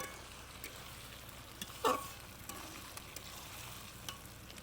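Ginger, garlic, cumin and chili frying with pre-fried onion for a pork dish, giving a faint, steady low sizzle with one brief clatter of stirring partway through.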